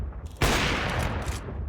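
Gunfire in the video game Crossfire on the Nuke map: a sudden, loud burst of rapid shots that rings on as sustained, dense firing for over a second.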